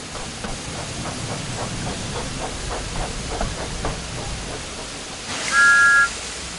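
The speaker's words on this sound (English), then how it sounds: "Thomas likes whistling cheekily at him." Thomas the Tank Engine, a steam locomotive, chuffs in a steady rhythm with soft hissing puffs, then gives one short, clear whistle near the end.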